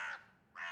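Crows in an anime episode give two harsh caws, one at the start and one at the end with a short quiet gap between, both fairly close and clear.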